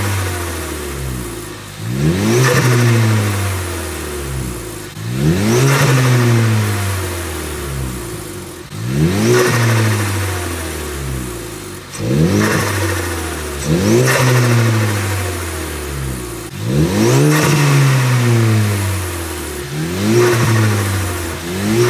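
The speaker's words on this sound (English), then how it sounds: "This exhaust is actually that loud." A Volkswagen MK8 Golf R's loud exhaust revs repeatedly, about six sharp rising blasts falling back to idle, evenly spaced and very close.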